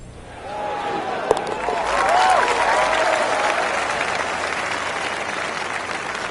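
Crowd applause from the PGA Tour 2 golf video game, cheering a long eagle attempt that drops for birdie; a broad wash of clapping swells after a sharp click and holds steady to the end, with a faint commentary voice underneath.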